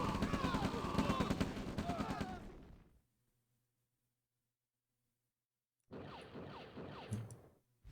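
Units trade gunfire and artillery in an OpenRA Red Alert battle, with dense rapid shots and booms for about three seconds, a silent gap, then another burst of crackling fire near the end.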